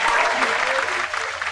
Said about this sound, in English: Let's give a round of applause for Jay.